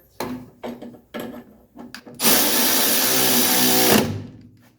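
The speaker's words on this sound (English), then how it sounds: "we're going to go ahead and tighten down the nut" Tightening the nut on a sway bar end link of a 1985 wagon, several short ratcheting bursts followed by a longer continuous whirring run of a power tool, close and loud.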